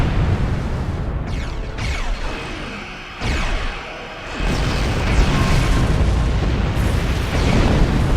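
Starship weapons fire and explosions in the Star Trek Online game. Heavy rumbling booms and bursts follow one another in quick succession over a dense, continuous roar, loud and close for the whole stretch, with no voices.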